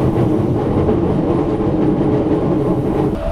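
A train rolls steadily along rails, giving a loud, continuous rumble with faint clatter from the wheels and no voices.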